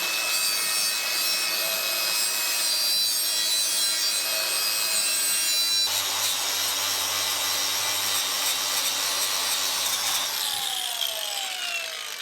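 An angle grinder running without its guard bites into scrap metal with a harsh, sustained grinding rasp and high metallic whine, close and loud throughout, the tone shifting midway as the cut changes.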